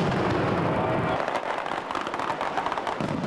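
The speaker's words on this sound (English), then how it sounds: "This ear-splitting barrage called the Mascleta is the loudest show on Earth." Mascleta barrage during a daytime festival: a dense, continuous roar of crackling firecracker bursts, loud and sustained, with a heavier low rumble in the first second before thinning to rapid popping.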